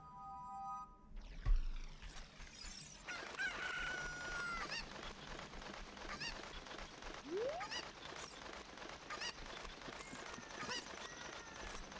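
A chicken crows in The Ship of Harkinian, a PC fan game port, a thin drawn-out call heard among game effects, with a thud near the start and a rising chirp later.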